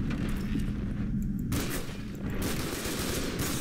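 Gunfire bursts in the shooter game F.E.A.R. 2 Project Origin, heavy booming blasts packed close together with a brief lull in the middle, loud and dense with no talking.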